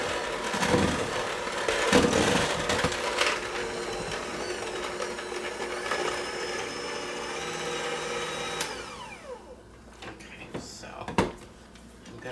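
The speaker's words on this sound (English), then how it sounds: "now we're just gonna mix this up really good" Spritz cookie dough being mixed, with a steady whirring motor hum running for most of the stretch before cutting out, leaving faint clatters and knocks, with some talking along the way.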